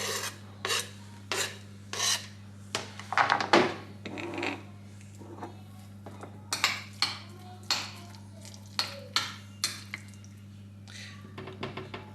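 A spoon scrapes and stirs onion into a sauce in a small bowl, rhythmic rasping strokes with light clinks against the bowl, close up over a steady low hum.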